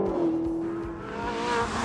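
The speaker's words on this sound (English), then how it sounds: "the Ferrari is the second most expensive car this year, but the exhaust note alone might be worth the cost of entry" A Ferrari 458 mid-engine sports car on a race track, its exhaust note holding a steady loud tone as the car passes close, with a rising, swelling engine sound and faint tire noise toward the end.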